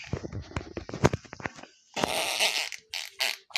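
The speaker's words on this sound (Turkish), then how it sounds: "Osuruyorum ben." A cartoonish fart in a Minecraft parody: scattered clicks and taps, then several noisy, spluttering bursts of varying length, fairly loud and close.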